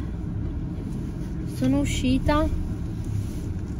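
A steady, low rumble fills the cabin of a moving car, with someone talking briefly over the constant road and engine noise.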